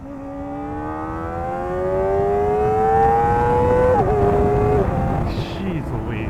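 A Kawasaki ZX-4RR motorcycle with a Yoshimura AT-2 exhaust, baffle fitted, revs up through the gears on an open road, its rising engine whine climbing steadily, dipping briefly at a shift, then fading into a lower drone under wind noise.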